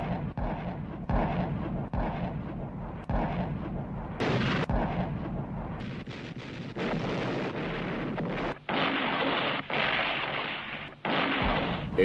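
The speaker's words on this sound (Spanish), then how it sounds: "Una demoledora barrera de artillería alemana y disparos de cohetes iluminan los cielos." German artillery barrage and rocket fire at dawn on 16 December during the Ardennes offensive of World War II: repeated heavy booms and sharp cracks follow one another irregularly over a continuous roaring, windy rumble, loud and sustained.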